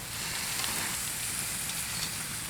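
Beef and bison filet mignon steaks sear in a hot pan, giving a dense, even, continuous sizzle heard up close with no talking.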